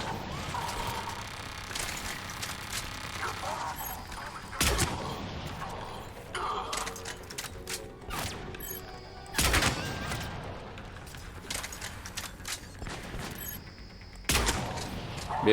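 Turret gunfire in the shooter Mass Effect 3, a low background of combat noise broken by three loud bursts spaced several seconds apart, with scattered smaller shots between.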